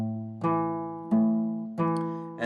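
Acoustic guitar fingerpicking with the thumb alternating between the sixth and fifth strings, three clear plucked bass notes each ringing out and decaying, close and alone.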